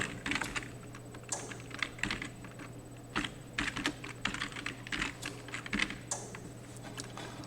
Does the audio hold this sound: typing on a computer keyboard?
yes